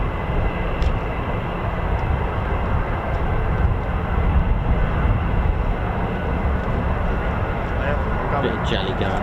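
An F-35's Pratt & Whitney F-135 turbofan roars at RAF Lakenheath, a loud, sustained, broadband jet rumble holding steady for about nine seconds, with faint voices underneath.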